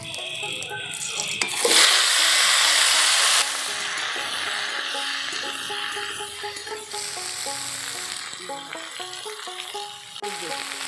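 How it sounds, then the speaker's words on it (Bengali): Bottle gourd pieces dropped into a hot pan, with a loud hissing sizzle and stirring scrapes, then steady frying beneath tonal, beeping background sounds. "লাউটা দিয়ে দিই"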